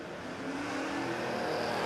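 A drag racing Camaro accelerates hard down the strip, a loud continuous engine roar that builds steadily over a couple of seconds with no talk.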